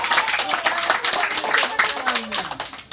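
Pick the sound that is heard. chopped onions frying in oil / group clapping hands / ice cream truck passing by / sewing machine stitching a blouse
group clapping hands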